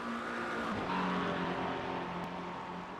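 A McLaren GT3 race car laps the Spa circuit in a racing video game, its engine a steady high-pitched whine with shifting tones and a brief sharp blip near the end.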